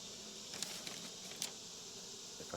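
Honeybees buzzing around an opened beehive, a faint continuous hum with a few louder passes close by and light rustling, quiet throughout.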